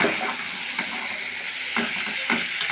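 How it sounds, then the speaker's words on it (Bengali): Warm water goes into sizzling spice masala in oil for a katla fish curry, giving a loud, hissing frying sound with bubbling surges and a few bursts, close and with no voices. "তেল ছেড়ে গেছে, এখন জল দিয়ে দেবো।"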